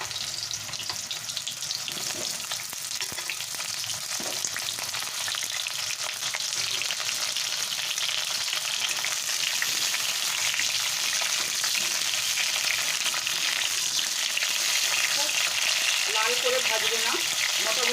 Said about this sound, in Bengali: এইভাবে আমি পটলটাকে হালকা করে ভেজে নেব